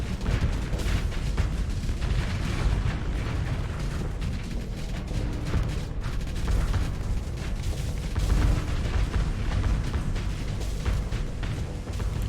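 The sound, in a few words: thermal pulse cannons firing in Starsector video game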